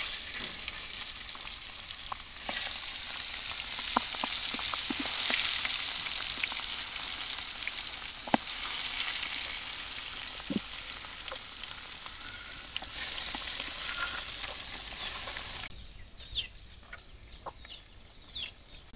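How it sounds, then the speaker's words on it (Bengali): Hilsa fish rubbed with turmeric dropped into a hot wok, giving a strong broad sizzle that gradually settles, with scattered spatter pops and clicks, close and without talking. "কড়াই গরম হয়ে গেছে, মাছ দিয়ে দিলাম।"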